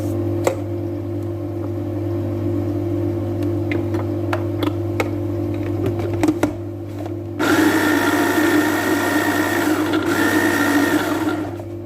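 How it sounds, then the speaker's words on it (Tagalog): Kitchen blender whirring through vegetables for Arabian vegetable kabab, a steady motor drone with scattered clicks and knocks, then a louder, harsher grinding surge partway through. "I-blender ko na siya."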